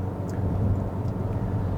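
A 2022 Toyota Corolla Cross AWD under hard acceleration gives off a loud, steady engine and road drone from inside the cabin, heavy in the low end and continuous throughout.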